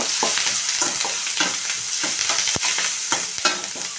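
Egg tomato chutney fries in a pan while a spoon stirs it, making a constant close sizzle broken by rhythmic scraping strokes and a couple of sharp knocks.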